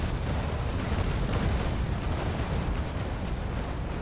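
Ship cannons firing in the naval battle game Naval Action, a dense, continuous rumbling barrage of booms blending into one another, loud and steady with no pauses.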